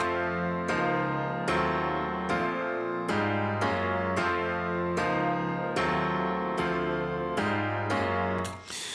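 Sustained synthesizer chords shift one after another at a steady pace, full and even in volume, with no talking.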